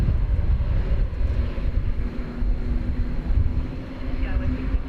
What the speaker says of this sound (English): Spirit Flight 2588 to Las Vegas on Airbus A320neo.